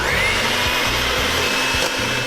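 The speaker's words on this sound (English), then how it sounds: "you can also use a hand mixer, like so. And you just wanna mix it until a foam starts to form." Electric hand mixer beating a vegan chocolate cupcake mixture until foamy, a steady loud motor whir with rhythmic bumps as the beaters move through the bowl, alone without talk.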